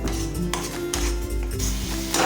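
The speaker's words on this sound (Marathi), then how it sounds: "इथे मी मंद गॅसवर टोमॅटोसुद्धा अशाच पद्धतीनं तेल सुटेपर्यंत परतून घेणार आहे" Tomatoes frying in oil over a low gas flame for Kolhapuri misal, giving a steady close sizzle with a low hum and occasional stirring scrapes, no voices.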